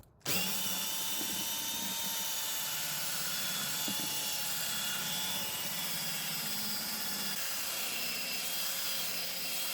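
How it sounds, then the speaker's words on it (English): A power drill fitted with a scrubbing brush whirs steadily and loudly after a brief start, its constant motor hum running without pause, with faint scrubbing underneath. "we're going to go for the drill brush"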